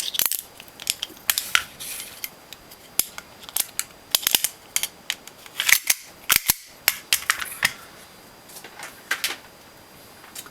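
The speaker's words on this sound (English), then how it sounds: "I'm going to put the gun back together, and we're just going to do a test fire" A Tokyo Marui G17 airsoft pistol test-fired on compressed air after custom modifications, giving a rapid, irregular string of sharp snapping shots and clicks close by, with no talking.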